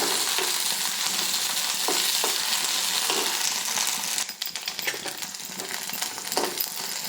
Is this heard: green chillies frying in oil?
yes